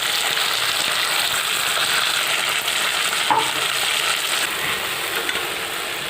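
Ground spice paste for drumstick curry frying in a pan, a steady close hiss and sizzle that holds evenly throughout with faint stirring scrapes.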